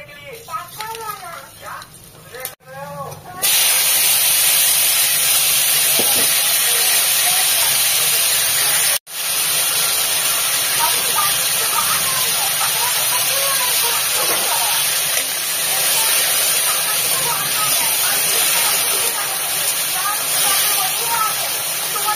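Mustard and radish greens sizzle loudly in hot oil, a dense steady hiss that swells suddenly after a few seconds and holds close and continuous, with a brief gap midway and faint talk underneath.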